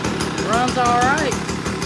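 A Stihl BR 200 backpack blower engine idling steadily at a normal idle, a close, loud, even two-stroke drone with a rhythmic pulse, while someone speaks over it.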